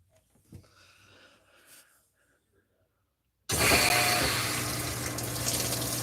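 A Whirlpool WTW5057LW0 HE top-load washer on its rinse cycle, water suddenly gushing in loud and close with a steady hiss that holds after a few quiet seconds of faint machine noise.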